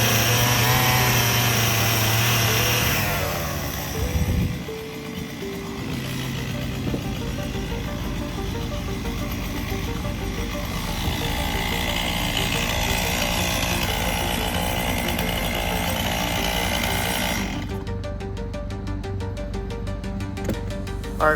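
A chainsaw cuts logs for a log-cabin-style solar panel rack outdoors, its engine snarling loud and steady with a brief dip in revs partway through and a change in pitch near the end.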